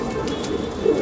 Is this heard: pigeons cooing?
yes